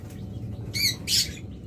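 Caged pet birds, lovebirds, budgerigars and cockatiels, let out two short, shrill chirping squawks in quick succession over a low, steady background rumble.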